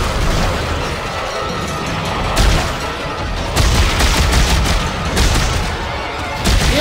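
Gunfire in Dead Space 3, loud repeated bursts of shots and booms over a dense, noisy game backdrop, several volleys spaced a second or two apart.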